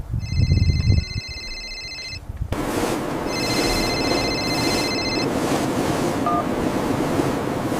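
A phone ringing with an incoming call, a repeating electronic ring tone heard first clearly and then again under steady wind and surf-like background noise, with no talking.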